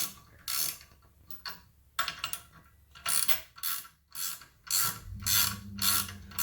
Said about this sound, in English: once you know they're started, take your wrench